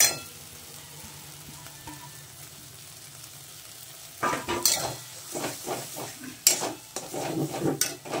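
Lote fish with turmeric is tipped into hot oil and stirred, a quiet pan hiss giving way to a louder spitting sizzle with scraping stirs and utensil clinks close by.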